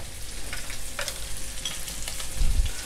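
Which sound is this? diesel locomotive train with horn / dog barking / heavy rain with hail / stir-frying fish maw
stir-frying fish maw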